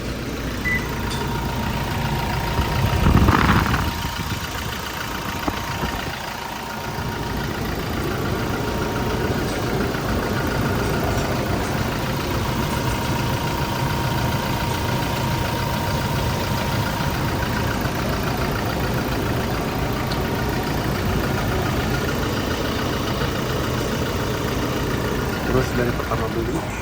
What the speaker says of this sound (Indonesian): Suara mesin turbonya masih besiul.